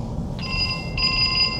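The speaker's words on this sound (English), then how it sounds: "Hold on, I got a phone call." An incoming call sets a telephone ringing with a steady electronic tone that steps up in pitch partway through, close and clear over a low background hum, with no talking.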